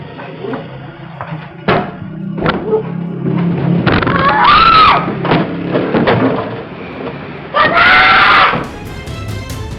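A woman employee in a shop screams and struggles against an armed robber, caught on CCTV: loud, shrill, strained cries in several bursts mixed with thumps and banging of a scuffle.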